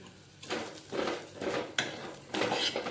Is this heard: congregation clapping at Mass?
no